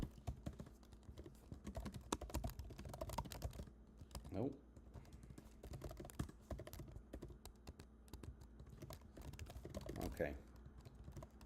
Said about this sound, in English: I can't be bothered to keep typing this out every time.